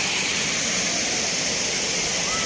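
Water gushes from a waterfall at Haridwar in a dense, unbroken roar that stays steady and loud throughout, with no breaks or distinct events.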